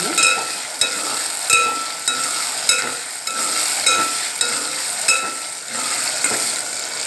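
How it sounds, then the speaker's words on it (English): Onions and garlic pods sautéing in a pan, a bright steady sizzle with regular clinks and scrapes of a spoon stirring against the metal, close and alone. "Now both I will be adding. I have to just do the saute for a minute."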